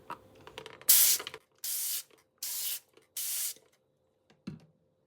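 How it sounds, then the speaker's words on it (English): A spray bottle of calcium lactate water is pumped four times in quick succession onto baking paper lining a container, each a short, crisp hissing burst, followed by a small soft knock. "we line the container with baking paper and spray it with calcium lactic"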